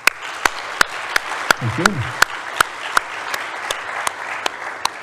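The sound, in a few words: audience applause for someone's talk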